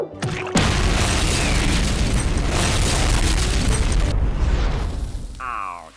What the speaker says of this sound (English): he really doesn't deserve to blow up as often as he does in the show